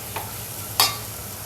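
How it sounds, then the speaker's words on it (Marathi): Chopped chai greens, a wild vegetable, in roasted masala, a low steady sizzle with two brief scraping stirs, the second louder, heard close with no talk. "आता त्याच्यामध्ये आपण पायची गोळी टाकूया जी चिरून ठेवलेली आहे"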